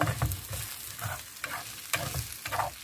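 Onions being stirred in oil for a chicken tajine with lemon and olives, a spoon scraping in regular strokes about every half second over a soft background sizzle, close and fairly quiet with no talking.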